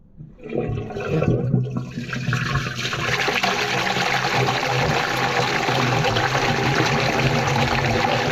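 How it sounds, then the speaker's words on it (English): Water drains from a kitchen sink through a newly relined drain pipe. It starts with a rising gurgle, then becomes a loud, steady rushing flow that continues close by to the end. "Sink is draining as good as new"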